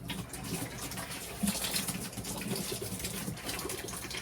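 Water from a Rheem tankless water heater's flush hose runs into a sink, giving a soft, steady splashing gush that continues faintly throughout.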